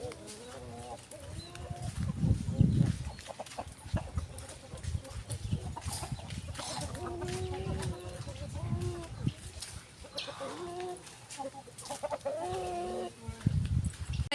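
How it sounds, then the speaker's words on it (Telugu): Fighting roosters and country chickens cluck and call repeatedly at a market, close and moderately loud, mixed with crowd noise and people talking. "ఇక్కడ పందెం కోళ్ళు అంట, పందెం కోళ్ళు నాటుకోళ్ళు"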